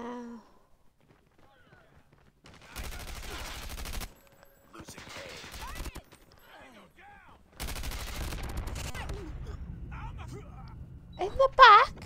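Gunfire in the mobile shooter Call of Duty Mobile crackles in several bursts of rapid shots with quiet gaps, mixed with other game sounds and a person talking.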